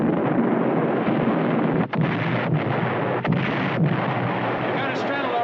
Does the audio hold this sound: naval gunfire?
yes